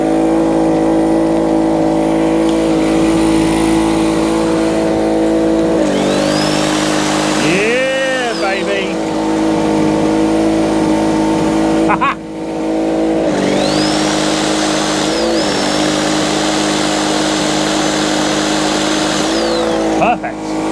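An old two-stroke generator engine, long unused and smoky, runs loudly with a steady buzzing drone, its pitch dipping and rising as the load changes, with a voice speaking over it.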